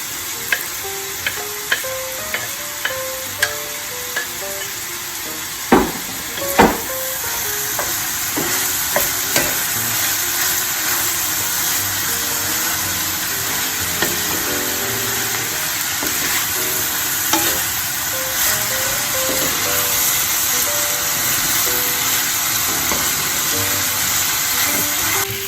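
Onions and pork for Portuguese bifana sizzle steadily in a pan, with a run of sharp utensil taps early on and occasional stirring scrapes over a constant close hiss, without speech.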